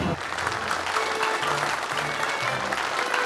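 Steady, loud audience applause from a crowd at a magic show, continuous clapping throughout with no voices standing out.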